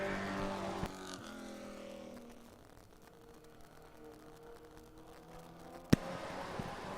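The Timberline Enterprises Chevrolet race car time trials on a speedway, its engine whine heard at a distance rising and falling as it works down the back straightaway, with a sharp clunk near the end.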